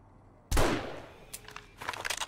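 A loud gunshot cracks in the survival video game 7 Days To Die, followed by a ringing decay, then a rapid scatter of further shots and impacts.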